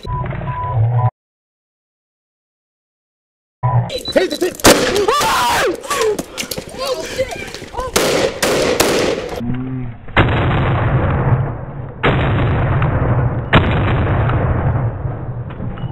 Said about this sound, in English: Then this officer draws her service pistol, fires 3 shots